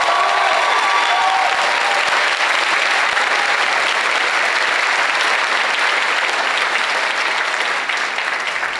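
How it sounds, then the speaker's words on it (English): A full school audience applauds honor students at a ceremony, the clapping loud, thick and unbroken for several seconds without any talk over it. "We can all give them a round of applause."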